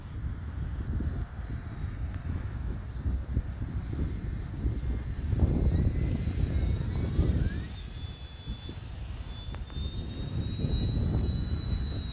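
The engine of an Arrows RC Bearcat model airplane whines overhead, its pitch rising and falling as it moves, over steady low wind rumble.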